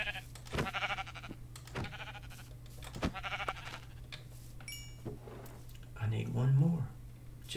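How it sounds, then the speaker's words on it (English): Sheep bleats from the video game Minecraft, a few short calls scattered through the clip with a louder one near the end, mixed with game noises and someone talking over them. "I've got to find some more sheep."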